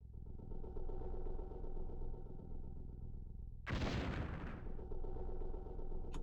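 In the Starship Troopers Battlespace video game, a missile launches with a sudden loud whoosh and blast lasting about a second, over a steady low engine drone.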